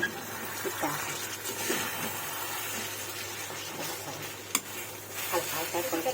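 Taro stolons fry in oil in a pan, a soft, continuous sizzle with occasional stirring scrapes and a brief utensil knock, fairly faint and close.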